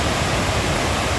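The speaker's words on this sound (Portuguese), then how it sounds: "E essa água vem correndo há muitos dias." Water of the Ipanema River in Santana do Ipanema, Alagoas, rushing steadily in a dense, unbroken hiss, close and loud throughout the brief moment.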